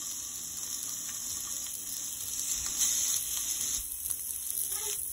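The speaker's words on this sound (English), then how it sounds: "We got our pan with hot olive oil ready to go. We got our shrimp on the skewers" Shrimp skewers sizzle and crackle steadily in a pan of hot olive oil, a close, continuous hiss with small pops, loudest midway and heard on its own with no talking.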